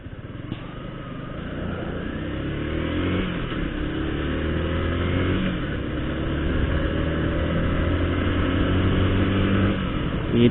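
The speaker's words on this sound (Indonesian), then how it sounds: "Ada mobil cuy." Engine noise from a motorcycle ridden along a road in Palembang while a car passes, a steady close drone with rising revs and wind rumble throughout.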